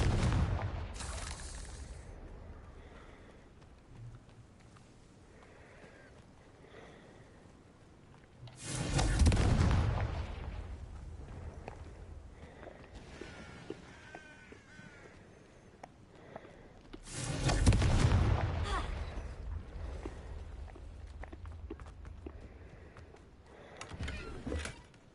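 Spell blasts from the Confringo fire curse in Hogwarts Legacy, two big booming explosions roughly eight seconds apart, each a sharp loud burst with a long rumbling tail, separated by low ambient game sound.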